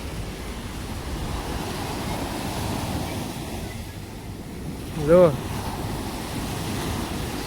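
Ocean surf rolls steadily onto Miramar beach, a continuous washing roar with wind noise across the microphone; a brief tonal whistle-like sound rises for a moment near the end, and a voice speaks briefly.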